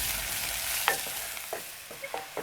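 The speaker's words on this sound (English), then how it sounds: "So I'm going to fry this onion until it is translucent" Chopped onion fries in a pan for an omena dish with a steady close hiss, broken by a few soft scrapes of a spoon stirring it.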